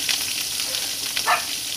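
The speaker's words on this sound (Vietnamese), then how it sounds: "Cá mồi mình chiên nha." Small anchovy-like fish frying in a pan, a steady close sizzle and crackle of hot oil with a couple of brief louder spits, no voices.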